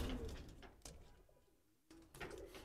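Pigeons of an old local breed coo in soft, low murmurs from a loft, faint and close, with some rustling and a brief quiet gap in the middle.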